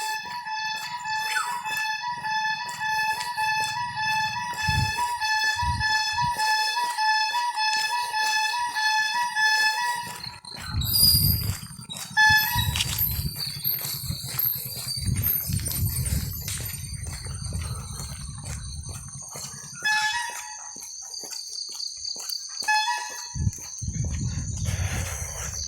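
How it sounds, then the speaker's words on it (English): Village birdsong in South Goa, with peacocks and roosters in the mix: many tonal calls and chirps that layer and overlap at moderate distance, over a low rumbling background. "Please enjoy all types of sound, birds, peacocks and pawfellows."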